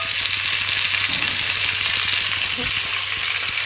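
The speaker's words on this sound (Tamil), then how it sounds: "இது 2 to 3 நிமிஷத்துக்கு நல்லா கிளறி விட்டுக்கலாம்." Dried fish curry in a village-style kitchen sizzles and crackles loudly and steadily in a pan, with a few soft scraping strokes as it is stirred, heard close and continuous without any talking.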